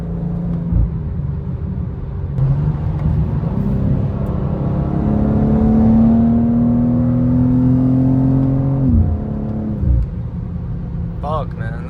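A stock BMW M2 G87 accelerates hard from inside the cabin, its engine note climbing steadily in pitch through a long pull before a brief drop at the gear change, loud and close.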